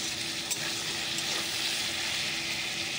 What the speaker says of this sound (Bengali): আমি একটু সবজিটা বেশি নাড়া দিই